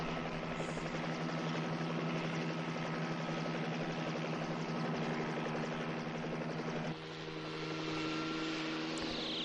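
A steady, loud helicopter rotor and engine drone from the film Pumaman, continuous throughout with a slight change in pitch partway through.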